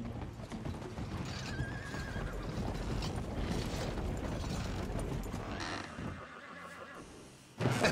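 A horse whinnies in Red Dead Redemption 2 amid steady clip-clopping hooves and creaking mechanical sounds, the hoofbeats fading before a sudden louder burst at the end.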